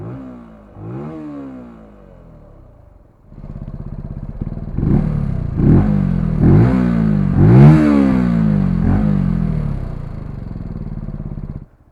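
A Benelli TNT 125 motorcycle idling close by, its engine revved several times in sharp rising bursts over a steady, throaty idle, loud and with no talk.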